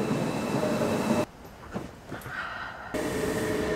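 A train ride toward the Glacier Express, with steady rumble and rolling noise from inside the car, a sudden drop to quieter wheel clatter and squeal midway, then the loud roar returning.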